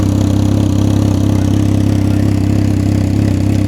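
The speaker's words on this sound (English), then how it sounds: "That's a cold start, so it might quiet down once it warms up a little bit." A Can-Am Ryker motorcycle fitted with a Twin Kaos exhaust idles after a cold start, with a loud, steady, throbbing low rumble recorded up close that keeps an even pulsing rhythm throughout.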